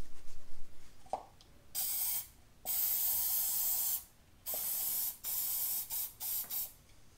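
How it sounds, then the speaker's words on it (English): Rust inhibitor sprayed from an aerosol can into a cup while working on a Saturn Sky, several hissing bursts of varying length, some long and steady, others short and clipped, close and fairly loud in a quiet space. "I'm actually going to spray this rust inhibitor into a cup"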